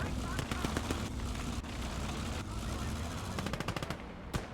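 Video game battle with heavy gunfire aimed at tanks: dense, continuous rattling bursts and sharp reports filling the whole stretch, loud and close.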